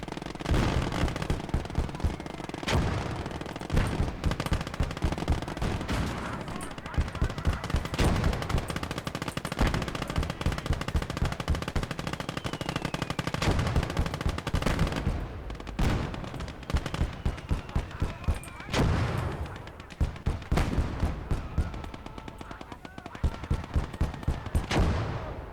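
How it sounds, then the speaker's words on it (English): Machine gun fire in the World War II strategy game Call To Arms: Gates Of Hell, sustained loud bursts of rapid shots with overlapping distant gunfire, nearly continuous with brief lulls. "They got sniper or just a really accurate machine gun."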